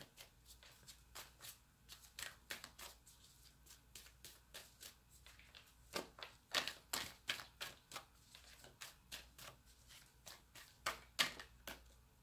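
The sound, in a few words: shuffling tarot cards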